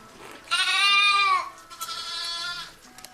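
Lambs on a sheep farm give two close, loud bleats, the first long and strained, the second shorter and softer, over a quiet background.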